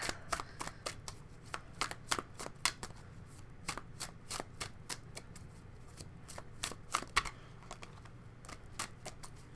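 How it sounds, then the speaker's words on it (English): A deck of tarot cards riffled and handled at close range, with a rapid run of crisp flicking snaps and slaps that comes in quick bursts over a quiet room, with no talking. "I'm going to pull 2 more cards from this deck."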